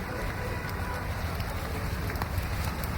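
Light monsoon rain falls at Vile Parle market, a steady, even hiss of drops with a low rumble underneath, continuous and unbroken throughout.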